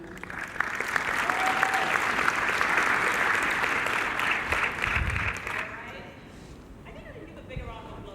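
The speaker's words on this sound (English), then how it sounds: "A big round of applause for her." Audience applause at a live podcast event on Africa's creative economy, a steady wash of many hands clapping with scattered cheers that holds loud for several seconds, then thins and fades beneath a speaking voice.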